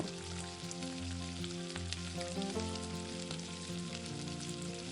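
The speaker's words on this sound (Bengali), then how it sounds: "এবার ওই তেলের মধ্যে বাকি তেলের বড়াগুলোকেও গোল্ডেন ব্রাউন করে ভেজে নেব" Fish roe fritters fry in hot oil until golden, a dense continuous sizzle heard up close beneath a steady hum, with no voices present.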